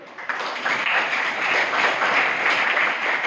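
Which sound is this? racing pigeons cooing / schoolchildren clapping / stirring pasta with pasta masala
schoolchildren clapping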